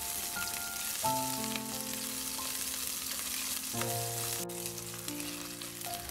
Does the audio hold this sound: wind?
no